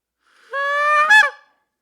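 A single goose call blown by a person to imitate a goose, one loud, close, nasal honk rising into a brief cracked squawk at the end, heard alone in silence.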